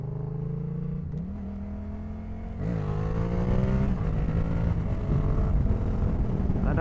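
A motorcycle engine revving hard at high revs in floodwater, a loud sustained drone that climbs in pitch, steadies, then rises again, close and continuous.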